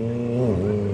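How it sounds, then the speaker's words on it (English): A motorcycle engine holds a steady, fairly loud idle through a freestyle motocross stunt at the IMS Long Beach 2012 event, a continuous low drone with a slight pitch dip midway. "just using the idle on that motorcycle to keep it going"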